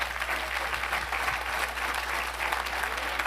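An audience claps steadily, a dense, even wash of many hands filling the room without pause.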